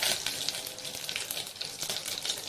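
Curry leaves dropped into hot oil with mustard seeds, giving a steady close sizzle with busy crackling spits throughout, fairly soft and even in level.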